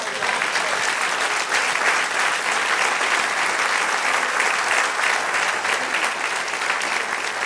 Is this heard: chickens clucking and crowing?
no